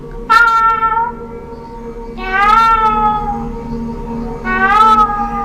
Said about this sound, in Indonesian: ditandai dengan suara kucing